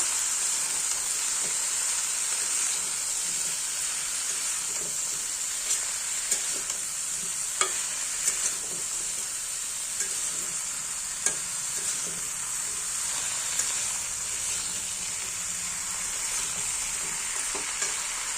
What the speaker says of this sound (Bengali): নুন আর হলুদ দিয়ে দিচ্ছি ভালো করে মিশিয়ে নেব